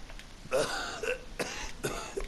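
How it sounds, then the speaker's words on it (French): A video game character gives a few short coughs, several rasping throat-clearing bursts spaced out over a couple of seconds, fairly quiet and close. "Pauvre, il tousse, il est malade."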